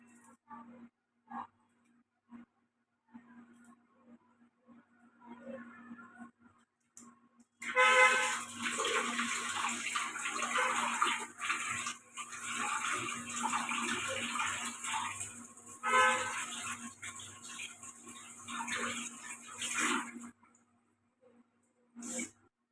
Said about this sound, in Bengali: এই যে আমি হাত দিয়ে কেটে কেটে নিচ্ছি, কারণ হাত দিয়ে ছোট ছোট করে কেটে ধুয়ে নেবো।